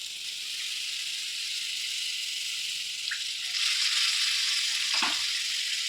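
Brinjal curry masala with tamarind and tomato frying in a pan, a steady loud sizzle throughout that swells partway as the mixture is stirred.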